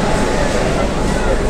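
Kolkata metro train standing at an underground station beneath the Ganges, bound back toward Howrah Maidan: a loud, steady rumble with crowd chatter mixed through it.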